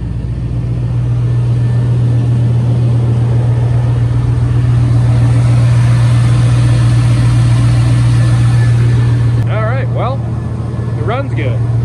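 A Chevrolet Silverado single cab short bed pickup idles steadily up close with a constant low hum, and a voice comes in briefly near the end.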